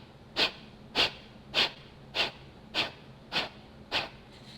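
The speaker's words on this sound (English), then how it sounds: "We're also going to do something that is called breath of fire." Breath of fire breathing exercise: eight sharp, forceful nasal exhales in an even rhythm about twice a second, close and clear with no talk.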